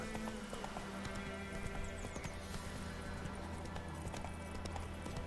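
Horse hooves clip-clop at a quick, steady gallop in the video game Witcher 3, set over a constant background of game music and ambience, with a faint voice underneath.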